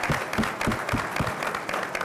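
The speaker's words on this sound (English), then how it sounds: "Let's give a round of applause" Dense audience applause at a conference session for a senator, loud, close clapping from many hands forming a continuous patter.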